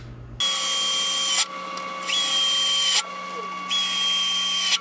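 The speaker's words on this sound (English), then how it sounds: "off camera I ended up going to get some new 5/8 drill bit instead of the step bit" Power drill boring holes with a 5/8 drill bit into an RX7 fuel cell, loud high whine running in three bursts with brief pitch dips between them, close to the microphone.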